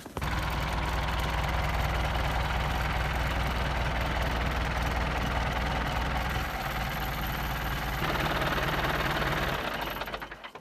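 A tractor engine fitted with snow chains idles loudly and steadily with a rapid, chugging rhythm, the tone shifting slightly partway through before it winds down at the end.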